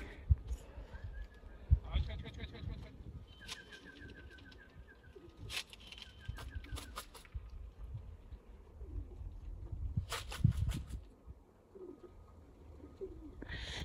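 Racing pigeons landing, cooing and fluttering with bursts of wing flaps, heard over steady background noise and occasional talking.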